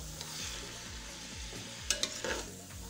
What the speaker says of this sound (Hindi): इसी ऑयल में हम टिंडियों को फ्राई करेंगे।